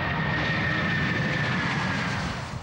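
A plane's engines drone in a loud, steady roar heard from inside the cabin, fading slightly at the end.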